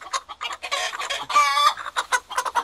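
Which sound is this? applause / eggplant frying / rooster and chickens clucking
rooster and chickens clucking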